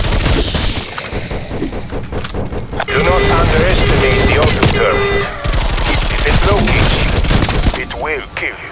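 Rapid automatic gunfire from an auto turret in Call of Duty: Black Ops Cold War, continuous bursts of shots layered with game music and effects, loud and near throughout.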